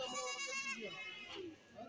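At a Kerala goat market, a goat bleats with a long, wavering cry that fades into shorter calls. Nearby voices murmur underneath.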